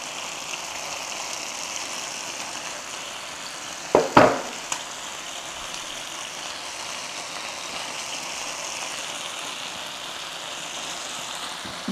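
Whole cardamom, cloves and cinnamon dropped into a little hot oil for a chicken gravy, a steady soft sizzle running throughout with a brief louder crackle burst near the start, no voices.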